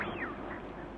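A short duck-like call from a wigeon, close and fairly loud, with a brief rising whistle-like note over a steady outdoor background at Blakeney, 1961.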